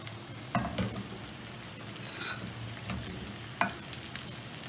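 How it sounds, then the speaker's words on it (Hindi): Vegetables frying in a pan for about a minute to keep their colour, a steady soft sizzle with a few sharp stir scrapes and clinks, close by and alone. "ये हमने सब्जियां भून ली अपनी 1 मिनट के लिए"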